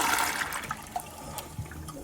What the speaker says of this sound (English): let's give it a whirl and see what kind of flush we have with this one